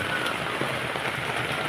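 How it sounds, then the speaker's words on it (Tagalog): Steady typhoon rain pouring down, a dense continuous hiss of drops on surfaces, close and unbroken throughout. "kapag hindi tumigil ang ulan lumalalim to dito"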